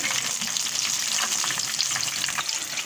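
Tomato and spinach pakoras fry in hot oil with a steady, close sizzle and crackle that runs the whole time, with faint stirring and no voices.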